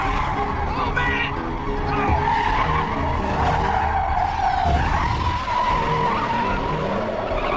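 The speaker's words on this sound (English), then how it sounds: "He hit the brakes right in front of me." An old race car braking hard, its tires skidding in a loud, sustained squeal with wavering pitch that runs for several seconds, close and over engine noise.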